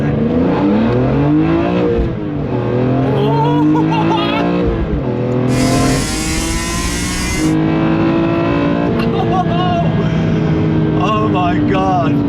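A BMW E46 M3 CSL with a carbon fibre air intake revs hard, its engine note climbing and falling in repeated loud sweeps close to the microphone, with a sharp, high-pitched induction sound for several seconds in the middle.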